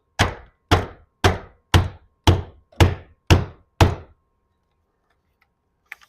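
Eight evenly spaced hammer blows strike wood in a steady rhythm, each a sharp close knock with a short decay, followed by near silence and a faint tap, during garage door torsion spring and bracket installation.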